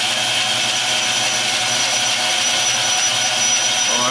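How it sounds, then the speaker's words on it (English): A power tool cutting into a car part during a turbo build on a Mazda RX-8, a loud continuous high-pitched whine, steady and close throughout. "Okay, time to cut and drill."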